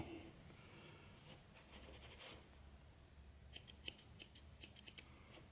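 Scissors trimming the edge of a sheepskin shearling headband, a faint run of small crisp snips, several quick cuts clustered close together after a quieter stretch of soft handling noise.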